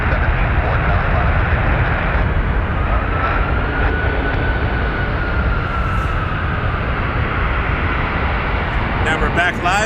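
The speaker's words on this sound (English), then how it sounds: "That was the replay of earlier today, just after 3 p.m. The Emirates took off." An Emirates airliner taking off at Toronto Pearson airport, a loud, steady roar of jet engines with a slowly shifting whine, continuous and close, with some talk underneath.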